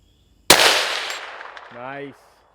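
A single sharp crack from a .22 WMR rimfire rifle firing at a 200-yard target rings out loud and close, then decays, followed by a brief spoken word.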